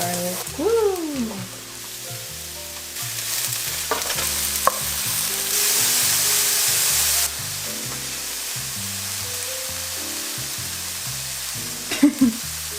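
Onions and garlic sizzle and fry in a home-kitchen pan for a vegan meal, a steady crackling hiss broken by stirring clatter, with a brief voice now and then.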